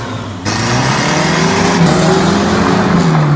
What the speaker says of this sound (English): That's the first drive of the Datsun Ute in 20 years.